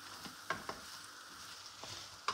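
Spring roll filling with crushed chillies and black pepper sizzles in a pan while a utensil stirs it, with a few scattered scraping knocks over the steady frying hiss.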